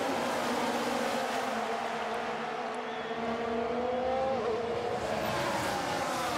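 F1 cars launching off the grid at a race start in F1 Manager 2022, a dense layered engine roar with rising whining pitches as several cars accelerate together, loud and sustained.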